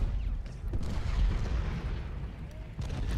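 Distant artillery fire on a Gettysburg battlefield in Ultimate General Gettysburg, low rumbling booms rolling under a dense, steady battle din with a faint voice.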